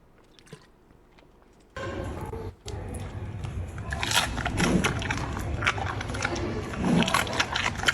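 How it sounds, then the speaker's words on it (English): A panda crunches and chews a carrot up close, with a quiet start and then continuous wet crunching, scraping and biting that swells in a few louder bursts. "That was a a panda eating a carrot."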